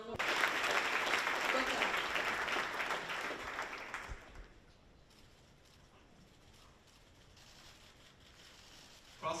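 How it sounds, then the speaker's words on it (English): Audience applause at a public event with former UK Prime Minister Boris Johnson in Taiwan, dense loud clapping for about four seconds that drops off abruptly, followed by quieter room sound and a brief spoken greeting. "Let's give him a round of applause once again"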